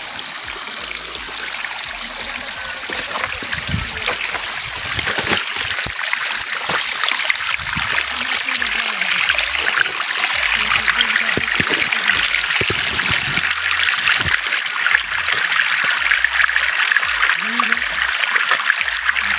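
Water from a hillside stream runs and splashes steadily throughout, a continuous broadband wash with occasional louder splashes, while a person talks intermittently over it.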